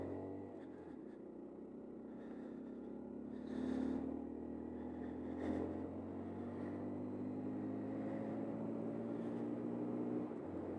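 A 2020 Honda Monkey 125 motorcycle's small engine hums while it is ridden, its tone rising gently over several seconds under wind rumble. The sound is faint and recorded at a distance.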